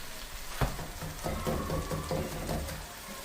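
Garlic sautéing in a pan for a liver and onion dish, giving a soft, steady crackling sizzle with a sharp clack near the start, then faint rhythmic scraping or stirring taps, close and fairly quiet, with no talk.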